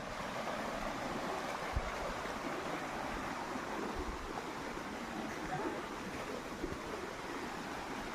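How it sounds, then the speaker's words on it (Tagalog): Water from a waterfall in San Vicente, Gumaca, Quezon, Philippines rushes and splashes continuously over rocks, a steady broadband roar, with no voices. "Ang maririnig dito ay lagaslas ng tubig galing sa Busay"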